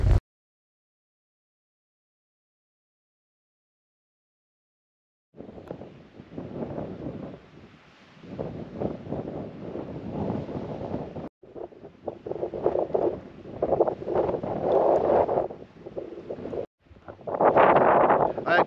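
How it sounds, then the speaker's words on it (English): Strong gusty wind buffets the microphone outside a mountain bothy at Warnscale Head in the Lake District, with roaring surges that rise and drop after a silent opening; no talking is heard. "Very breezy, very gusty, a bit windy, but it's nice."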